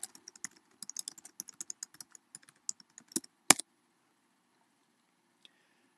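Keyboard typing close by while a setting in Apple Compressor is renamed to Reverse Telecine: a run of irregular light key clicks for about three seconds, then a louder final keystroke, followed by near silence.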